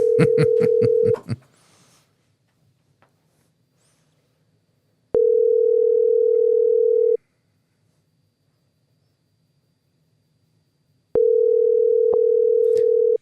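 Ringback tones sound on an outgoing phone call: a steady electronic tone about two seconds long, repeating after roughly four-second gaps of near silence, with brief clicks between rings.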